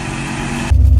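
A car with a 5.7 Hemi engine and long tube headers hums steadily, then shifts abruptly into a deeper, louder rumble as the vehicle drives off.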